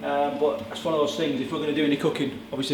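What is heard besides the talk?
No distinct noise like a dog, phone or traffic.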